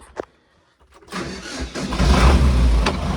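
YuMZ 10264N tractor engine cranking briefly after a click, then catching and settling into a loud, rough diesel idle, close by.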